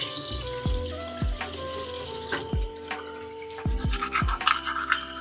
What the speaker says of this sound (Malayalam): സോ ക്വിക്ക്ലി ബ്രഷ് ചെയ്യാം.